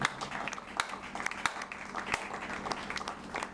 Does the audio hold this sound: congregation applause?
yes